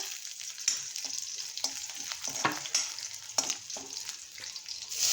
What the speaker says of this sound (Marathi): लसूण छान असं ब्राऊन करायचं परतला गेलं पाहिजे